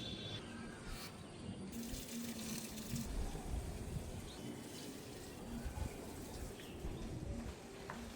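Water pours steadily onto dry potted garden plants, a continuous splashing wash running the whole time, with pigeons cooing faintly in the background.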